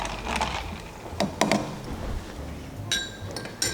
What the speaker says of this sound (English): Give a gentle stir that all the ingredients should mix properly